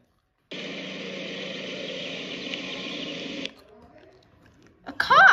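A car engine runs at a steady hum for about three seconds, then cuts off, leaving quiet rustle before a brief sharper sound at the end.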